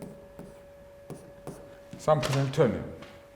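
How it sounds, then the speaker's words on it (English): Chalk or marker taps and strokes on a board during a physics lecture, faint and intermittent, with a voice speaking briefly in the middle over a steady hum. "And here we write some Hamiltonian."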